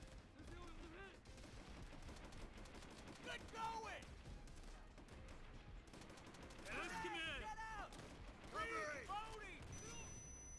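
Gunfire and grenade blasts from the World War II shooter Call of Duty: World at War, with dense rapid shots and several sharp bursts throughout, mixed with game sounds and shouting.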